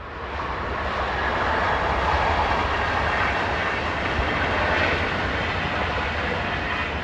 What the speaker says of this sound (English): Local trains on the Wolfsburg line are in the capable hands of Class 112s